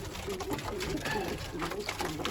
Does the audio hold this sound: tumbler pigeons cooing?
yes